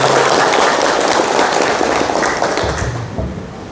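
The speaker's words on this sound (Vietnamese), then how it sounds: "Một tràng vỗ tay hết mình." Loud, sustained applause from a crowd at a clinic ceremony celebrating patients who beat cancer, a dense wall of clapping that thins slightly toward the end.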